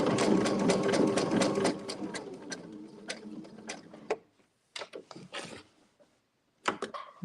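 A sewing machine free-motion quilts a floral petal on a quilt block, racing in a dense, close rattling burst before slowing to scattered stitches and short stop-start runs separated by silences.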